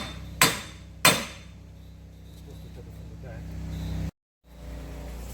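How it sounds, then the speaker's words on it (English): Two sharp, loud hammer taps strike the hub bearing on a wrecked 2012 Mitsubishi Lancer Evolution GSR during a rebuild, spaced about half a second apart, then a steady low hum of the workshop continues. "I tapped a little bit with the hammer and it came off already"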